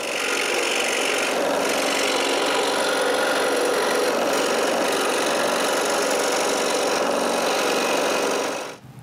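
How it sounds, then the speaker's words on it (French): A scroll saw cuts a wooden piece for a small pharmacy door in one steady, loud, buzzing run that stops abruptly near the end. "Et de retour à la scie à chantourner."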